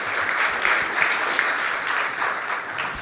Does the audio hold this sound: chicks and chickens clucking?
no